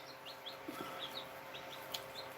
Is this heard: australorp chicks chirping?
yes